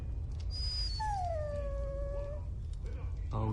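A dog in the video game Dragon Age: Origins gives a long, drawn-out whimpering whine that rises and slowly falls, close and clear over a low rumbling background.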